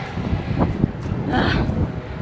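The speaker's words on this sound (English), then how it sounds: "It's so windy again today" Steady wind buffets the microphone while bike touring in the Austrian Alps, a low rumbling roar with gusty swells throughout.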